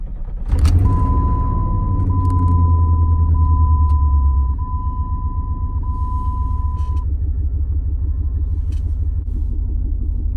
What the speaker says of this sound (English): let's go ahead and start the Jeep